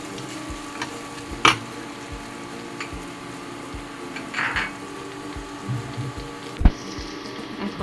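Onions browned with cumin frying in a pan for a broiler chicken curry, giving a continuous close sizzle with a few scattered clinks and scrapes and occasional louder bubbling bursts.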